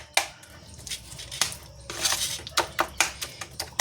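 A spoon stirring a homemade hair pack in a bowl gives irregular sharp clinks and scrapes. The taps come close and fairly quiet, quickening into a cluster toward the end.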